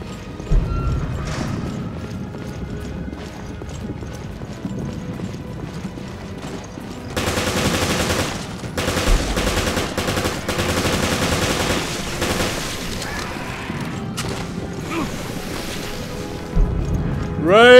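Gunfire in the video game Resident Evil Revelations, a dense stretch of rapid shots over a constant game soundscape with clattering effects, loud and continuous for most of the stretch.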